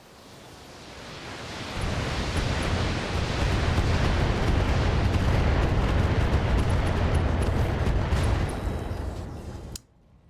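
A barrage of about 60 missiles bursts in a BattleTech mod, a dense, roaring wall of overlapping blasts that swells and holds loud for several seconds, then stops abruptly.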